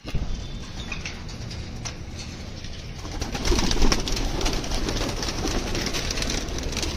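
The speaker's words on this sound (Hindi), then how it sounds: "अपने कबूतर निकल गए हैं और बहुत ज़्यादा ही भूखे और प्यासे भी हैं।" Pigeons coo softly on a rooftop amid rustling and fluttering, with a busier burst of activity partway through as hungry birds are released, and steady outdoor background noise.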